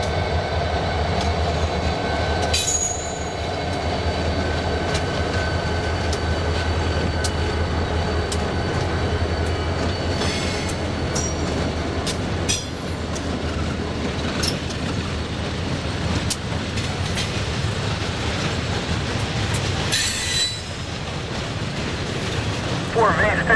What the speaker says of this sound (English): As trains approach the Conway Yard, we see power from other railroads.